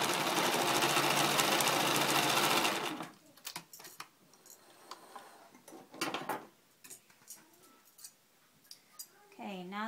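A sewing machine stitching a fur circle scarf: a dense, loud mechanical whir for about three seconds, then stops, followed by scattered clicks and handling sounds of the fabric.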